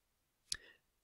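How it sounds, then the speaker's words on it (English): A single tab key pressed once on a computer keyboard, a short sharp click standing alone in near silence. "So click tab on your keyboard once."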